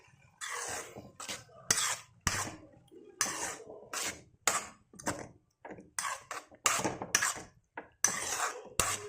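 Beetroot halwa being stirred with sugar syrup in a pan, repeated rhythmic scraping and clinking of a spoon against the metal in quick bursts with short pauses, close and clear, no talking.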